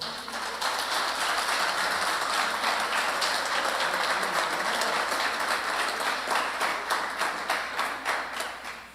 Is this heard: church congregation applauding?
yes